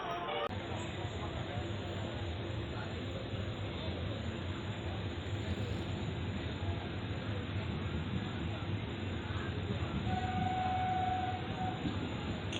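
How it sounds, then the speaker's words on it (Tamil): The Guruvayoor Madurai Express rumbles steadily with its unreserved coaches as it pulls into Kilikollur railway station, with a continuous high whine and a faint horn-like tone near the end. "நம்ம ட்ரெயின் பார்த்திங்கன்னா கிளிக்கோளூர் அப்படிங்கிற ரயில்வே ஸ்டேஷன் வந்து ரீச் பண்ணியிருக்கோம்"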